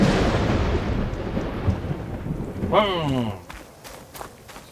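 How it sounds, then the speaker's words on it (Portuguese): Storm in the Horizon Forbidden West video game: a heavy rumbling roll of thunder over rain dominates, then fades behind footsteps and a brief game sound. "Nossa, tempestade, cara."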